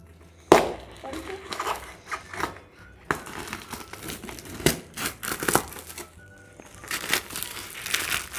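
A tightly sealed gift package is cut and torn open up close, with sharp rips, crinkling plastic and paper, and scissor snips in uneven bursts, while a person speaks quietly at moments.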